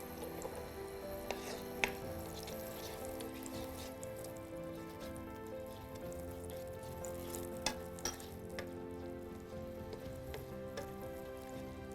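Oil and butter sizzle and crackle steadily in a pan as the butter melts, a soft, even frying hiss with a few sharper pops, close by and without talk.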